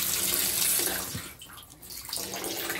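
Tap water gushing steadily into a tub or basin, a loud, close hiss that dips briefly in the middle and then resumes, with no voices.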